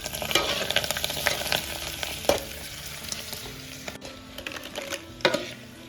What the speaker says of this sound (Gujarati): આ ભૂંગળા તળવાનું ચાલુ કરી દીધું માર મેં